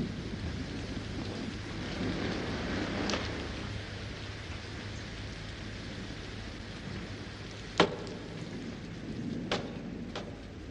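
Wind and rain lash steadily outside in a stormy night, a dense continuous hiss with a few sharp cracks and gusts standing out along the way.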